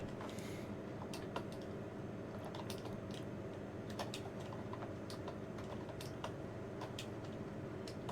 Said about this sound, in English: Just type in the right commands port.